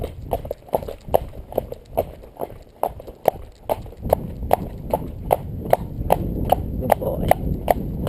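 A horse trotting on a firm surface during foundation training, hooves clip-clopping in an even, quick two-beat rhythm, close and distinct, continuing steadily throughout.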